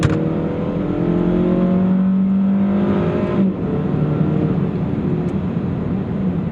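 A Jeep Patriot is floored from 40 to 60 mph, its engine droning loudly from inside the cabin as the pitch climbs steadily, shifting once partway, over constant road rumble.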